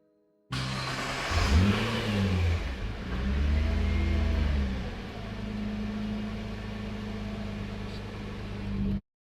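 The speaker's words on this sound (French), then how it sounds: "Je vais la démarrer" A crash-damaged, rebuilt Nissan GT-R engine cranks and fires up loudly, then revs twice in quick swells before settling into a steady, rumbling idle close by.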